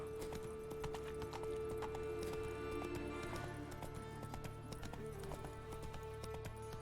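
Steady clip-clop of the horse Roach's hooves in The Witcher game, an even walking rhythm of close hoof strikes over a low ambient hum of city background.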